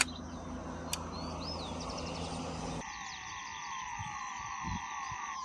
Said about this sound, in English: Listen, it's full of bugs